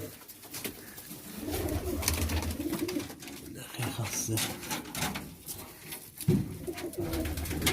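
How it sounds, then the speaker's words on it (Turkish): Domestic pigeons in a loft at night give soft, repeated low coos under someone talking nearby, with occasional knocks and clunks. "Boylu postlu güvercinler."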